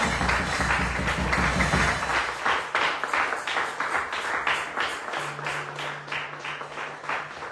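A church congregation at a service claps for the reverend apostle preaching: a dense burst of applause at first, then settling into steady rhythmic unison clapping, roughly two beats per second, moderately loud.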